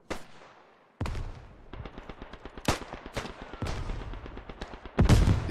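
A grenade blast and bursts of rifle and machine-gun fire ring out in the WWI shooter Beyond the Wire. Sharp cracks and rattling volleys come in quick succession, with heavy booms at the start and near the end.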